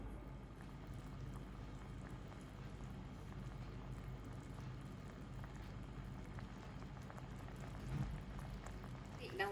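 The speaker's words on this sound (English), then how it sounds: "Just wait until it thickens and it bubbles" Parmesan and mushroom sauce thickening in a pan as it bubbles steadily, a soft continuous simmer with faint popping, quiet and close, no talking over it.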